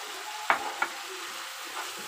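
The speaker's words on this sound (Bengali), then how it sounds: "তো মশলাটা আমি একটু ভালো করে কষিয়ে নেব" Chilli and spice paste frying in a pan for a fish curry, a light steady sizzle with two sharp stirring scrapes near the start and a softer one later, close and without talk.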